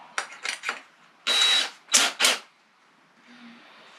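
Reamer enlarging the bore of a fishing rod grip for an inshore saltwater rod, in short separate bursts of close whirring friction, a few brief ones and then two longer ones, before it goes quiet.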